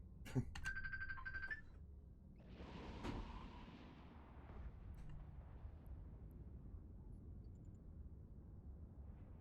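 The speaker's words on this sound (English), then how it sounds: "Oh, that's not my phone, that's my wife's phone." A mobile phone rings nearby in a room, a short repeating electronic tone at the start, followed by low rumbling game sounds and ambient noise.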